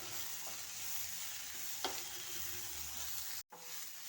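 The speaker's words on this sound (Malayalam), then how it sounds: "ഇനി ഇത് ചേർത്ത് വഴറ്റാം" Turmeric, chili and coriander powder sauté in a steel pan for Kerala chicken roast, giving a continuous close sizzle and frying hiss with light stirring scrapes and a brief break near the end, without talking.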